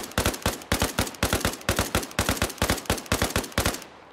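Rapid bursts of automatic gunfire in the video game ARMA Reforger, short, evenly spaced volleys, loud and close, with no talking.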